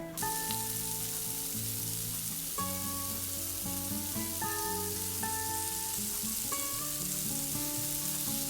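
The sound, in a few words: paneer and vegetable chunks pan-frying in oil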